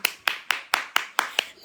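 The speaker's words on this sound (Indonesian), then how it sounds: "Tepuk tangan untuk Ritik Rosani itu." Clapping during a stage comedy performance: seven sharp, close claps in a steady, even rhythm, each crisp and distinct with brief decays between.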